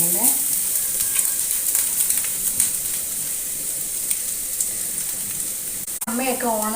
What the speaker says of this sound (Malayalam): അതേ പാത്രം ചൂടായിട്ടുണ്ട്, തേങ്ങ ഇട്ട് കൊടുക്കുന്നുണ്ട്.